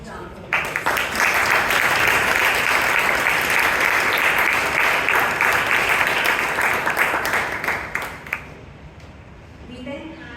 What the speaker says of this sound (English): Let's give our Toastmaster play a huge round of applause.